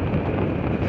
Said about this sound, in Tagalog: napansin ko mayroon malakas ng hangin dito